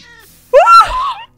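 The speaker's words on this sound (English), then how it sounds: "What if we kill Cass's cat?" A Minecraft cat gives a single clear, rising-and-falling meow, close and loud, following a brief faint tonal sound.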